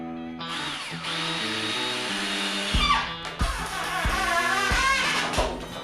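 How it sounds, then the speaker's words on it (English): A power drill drives screws into the wooden horizontal supports of model railroad benchwork. The motor whines up and down in repeated bursts, changing pitch as each screw seats, loud and close, with no talking. "I check their level and then screw everything in place."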